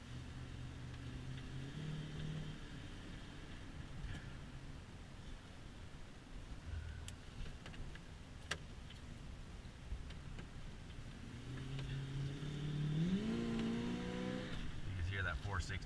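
A vehicle with a 460 engine accelerates while driving, its engine note rising steadily in pitch near the end over a constant rumble of road and cabin noise, with brief talk in between.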